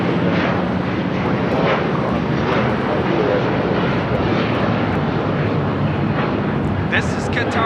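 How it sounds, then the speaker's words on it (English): Qatar Airways Airbus A350-1000 taking off from runway 25 left at LAX, a loud, sustained roar of jet engines that stays broad and heavy throughout, with faint voices mixed in. "This is Qatar Airways Flight 740 taking off to Doha on the A350 1000"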